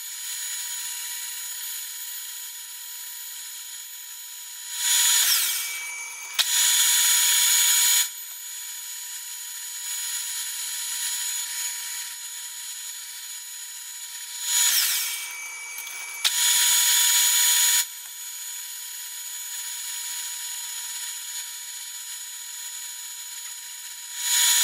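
Lathe machining an AR-10 barrel nut: a steady whirring tool hum with tonal whine, broken by two pairs of louder, harsher cutting bursts, close and with no voices.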